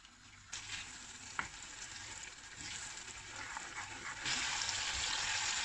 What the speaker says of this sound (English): Now I'm increasing the flame and keep stirring it.